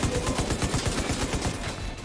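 Rapid bursts of gunfire striking the player character in The Division 2, a dense, steady volley of close, loud shots with no talking.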